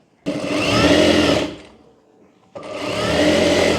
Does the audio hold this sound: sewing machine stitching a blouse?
yes